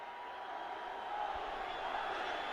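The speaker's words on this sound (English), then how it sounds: "The crowd going Rohit, Rohit." Cricket crowd at a match against West Indies chanting the batsman's name, Rohit, as he nears a century: a steady, moderately distant wash of massed voices that swells slightly, with no clear individual speech.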